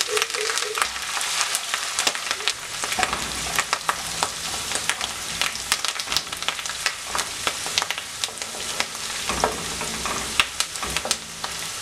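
Ginger, garlic and curry leaves fry in hot oil in a pan for a mango pickle, giving a steady dense sizzle with frequent crackles and pops and occasional stirring scrapes, close and continuous.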